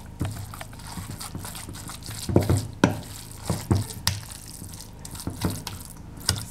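A spoon stirs grated carrot into salted yogurt for a carrot yogurt salad, giving soft wet scraping with intermittent sharp clinks against the bowl, close up and with no talking.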